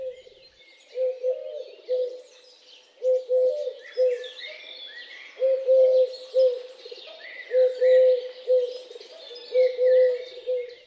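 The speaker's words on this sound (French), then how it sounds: "Ces trois notes-là sont celles de la tourterelle turque." A Eurasian collared dove coos softly in a repeated three-note phrase, the calls recurring steadily over a background of smaller birds chirping in the distance.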